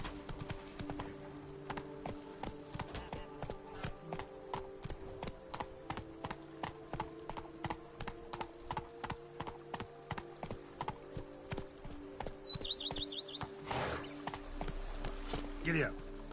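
Horse hooves clip-clop at a steady walking rhythm throughout a Witcher 3 game scene, close and moderately loud, with a faint tack jingle near the end.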